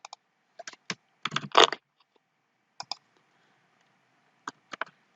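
A URL is typed on a computer keyboard in sparse, close, distinct clicks. A denser cluster comes early, followed by scattered single taps with silence between them.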